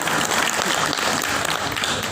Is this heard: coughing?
no